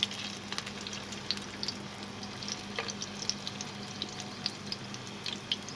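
Seekh kebabs fry in a pan with a quiet, continuous crackling sizzle dotted with small sharp pops and occasional spits throughout.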